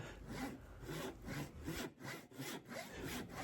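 A hand saw cuts through 6/4 thick, 2.5 inch wide white oak in a test cut, giving quiet, rhythmic rasping strokes with no other sound.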